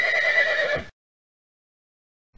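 A horse gives one loud, clear whinny lasting under a second, close by, followed by silence.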